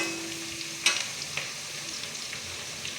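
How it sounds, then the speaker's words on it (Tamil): Thuthuvalai greens sautéing in oil, giving a continuous loud sizzle and crackle, with a single sharp clink of a spatula and a few light scrapes against the pan; no voices. "எண்ணெயில் கீரை நல்லா வதங்கும் போது கசப்பு சுவை குறையும்."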